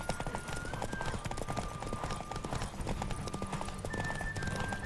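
Horse hooves clip-clop at a steady gallop in The Witcher 3, a close, continuous rhythmic pounding with occasional whinnies and a sustained musical tone over the game soundscape.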